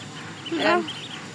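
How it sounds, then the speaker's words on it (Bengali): A single short quack-like call from a duckling eating rises briefly over a quiet background. "দেখেন এই যে হাঁসের বাচ্চারা করে না খাওয়ার জন্য পাগল হয়ে গেছে।"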